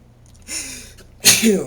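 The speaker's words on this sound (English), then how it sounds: "I had to sneeze." A single sharp sneeze preceded by a short inhaled gasp, close and fairly loud.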